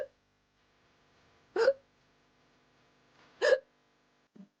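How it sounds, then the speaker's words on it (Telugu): Two sharp hiccups about two seconds apart, fairly close and clear in a quiet room, with a faint short vocal sound near the end. "ఎక్కిళ్ళు వస్తున్నాయండి"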